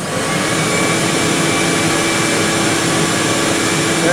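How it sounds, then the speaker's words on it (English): Shop vacuum running in a woodworking shop, a loud steady close whine and rush throughout with no talk. "my shop vac, and the shop vac has a control"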